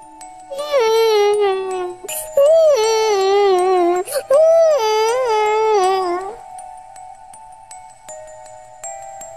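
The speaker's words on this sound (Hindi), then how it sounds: "ये रोने की आवाज कहाँ से आ रही है?" Crying from a cartoon character in an animated Hindi story, a high wavering wail in three long sobbing bursts over about six seconds, loud and close, with a faint steady tone underneath and then quiet.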